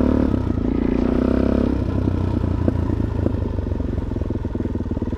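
Loud motorcycle engine idling and revving through a spare stock exhaust, a rough throbbing drone with clattering mechanical ticks, close and steady for the whole span.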